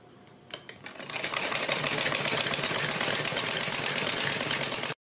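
A sewing machine stitches a strip of kurti fabric, starting with a few slow stitches and then running in a fast, steady mechanical chatter for several seconds before stopping abruptly; close and moderately loud, with no talking.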